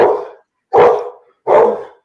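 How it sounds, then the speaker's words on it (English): A dog barks three times, loud and close, in evenly spaced single woofs during a live politics discussion broadcast. "Is that your dog, Melik?"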